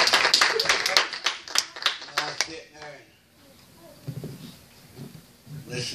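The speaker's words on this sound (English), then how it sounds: "Give the Lord a big old hand clap" A church congregation claps along in a quick sharp rhythm, loud at first and then fading into softer, scattered claps under singing and talk.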